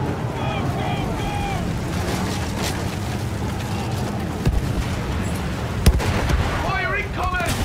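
Battlefield 1 combat with artillery and gunfire, a continuous dense roar of battle with sharp distant blasts and cracks, a louder bang near the end, shouting voices woven through.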